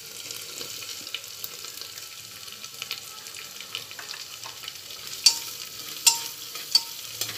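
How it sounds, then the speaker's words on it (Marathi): Chopped onion frying in oil in a pan for moong dal masala rice: a steady, quiet sizzle with a few louder crackles and stirring clicks near the end. "आता इथे आपण कांदा टाकू।"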